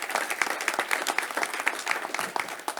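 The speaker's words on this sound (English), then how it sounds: "Can we get another round of applause for Chief Fenner?" Audience applause fills a news conference in Houston, a steady crowd of clapping hands with quick irregular claps, fairly close and loud, no talking over it.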